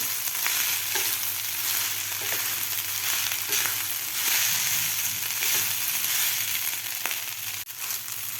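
Cooked rice being stirred into vegetables in a pan for raw mango rice, a steady frying sizzle with scraping stirs and occasional soft clinks, close and continuous, with no talking.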